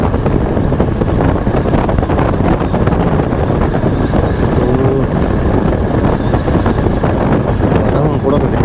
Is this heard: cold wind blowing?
yes